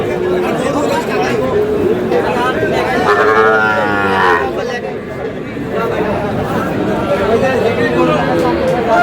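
Cattle, including Sahiwal bull calves, moo loudly at a busy Munshiganj cattle market, with one long drawn-out low call standing out over constant crowd chatter and people talking nearby.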